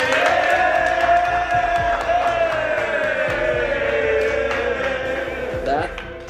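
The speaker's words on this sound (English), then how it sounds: "That does more than you'll realize to hear that kind of cheering." A large crowd at a basketball event cheers and whoops loudly and continuously, with shouts and a rising yell near the end, a broad roar filling the space.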